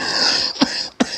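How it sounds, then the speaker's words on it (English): Two short, sharp coughs, close and fairly loud, follow a brief stretch of noisy background. "Excuse me, I have a little cough."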